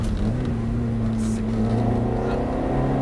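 A Ferrari F430 on a racing circuit drives at full throttle, its engine a loud, steady, close droning roar with a slowly rising pitch and no break throughout.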